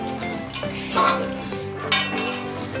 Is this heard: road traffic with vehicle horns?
no